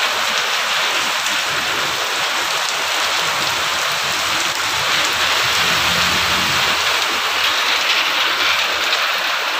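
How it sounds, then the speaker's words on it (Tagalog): Heavy rain pours steadily in a broadband, dense roar with close drops spattering on surfaces, constant and loud for the whole stretch with no voices. "Lakas talaw ng ulan."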